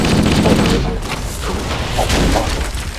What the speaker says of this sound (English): you're shooting guys from a distance with a shotgun